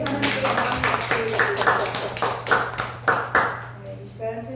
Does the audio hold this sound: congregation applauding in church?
yes